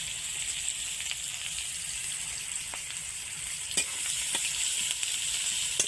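Onions and egg frying in a home kitchen pan, a steady hissing sizzle throughout with a few sharp crackles and spatters near the end, no voices.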